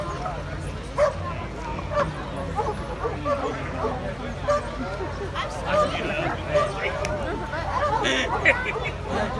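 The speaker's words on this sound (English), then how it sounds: "And dogs are coming." Several dogs bark and yip excitedly at a water dog race, some nearby and some farther off, amid crowd chatter and background noise.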